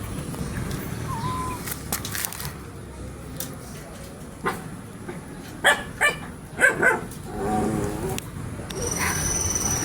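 A pet dog barks in a home: a few sharp barks and yips bunched in the middle, close and fairly loud, with softer scuffs and some background noise around them.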